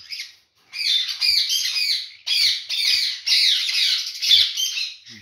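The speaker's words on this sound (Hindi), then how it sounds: "ये है जी green clear tell bird, yellow head yellow tell भी कह सकते हैं इसको" A male green cleartail ringneck parrot, also called yellow head yellow tail, gives a run of loud, harsh squawks in quick bursts with short gaps, close by.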